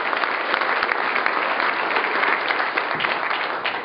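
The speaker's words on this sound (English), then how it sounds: "You should have clapped for that." Steady, loud applause from an audience at a political speech by a state governor, a dense wash of clapping that holds evenly throughout with a few sharper individual claps.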